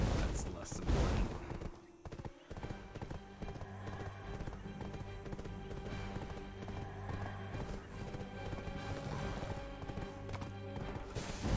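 Horse hooves clip-clop steadily in the video game Black Desert Online, a close rhythmic trot running under constant game music and effects, with a whinny near the start.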